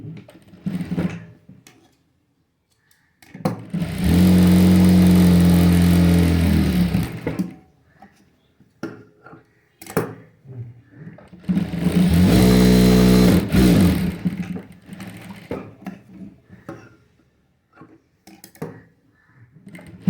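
Sewing machine stitching a princess-back blouse, running in two sustained bursts of steady mechanical whirring separated by quieter gaps with small handling noises.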